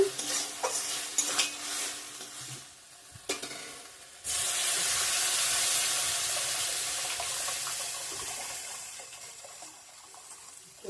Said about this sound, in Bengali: ভেটকি মাছের কারি রান্না করছি ভালো করে কষানো হয়েছে